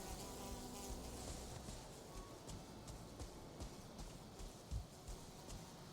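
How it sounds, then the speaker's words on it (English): A Deathsquito mosquito in the Mistlands of the video game Valheim gives a faint, steady insect-like buzz, with scattered soft thuds and clip-clop footsteps over a hissy ambient background, and no voices. "Oh, mosquito!"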